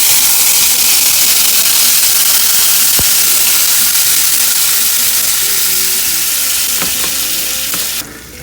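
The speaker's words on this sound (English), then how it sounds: "Now we are going to put everything in here into the frying pan." Plantains and eggs fry in a hot frying pan, a loud, dense, steady sizzle heard up close, with a single sharp clink partway through and the hiss easing slightly at the end.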